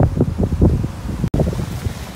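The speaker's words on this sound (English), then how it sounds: "It's really windy." Strong outdoor wind buffets the microphone at the Takarakuji Monument, a continuous low rumbling roar with gusting swells and a brief dropout midway, no talking.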